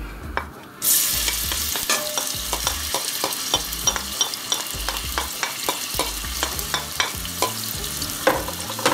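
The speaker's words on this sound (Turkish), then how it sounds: "Yağımız ısındı. Soğanımızı ekliyoruz." Onions hit hot olive oil in a pot for a cauliflower dish. A sudden loud sizzle rises after a short quiet start, then continues steadily with repeated stirring scrapes and taps close by.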